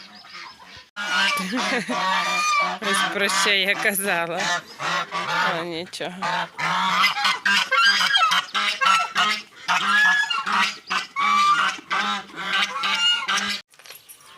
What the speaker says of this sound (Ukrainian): Зараз випущу індокачок і будуть крик робити.